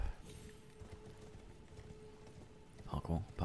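Torrent, the spectral steed in Elden Ring, clip-clops along at a steady trot, quiet and mid-distance under a player talking, with a louder thump of sound near the end.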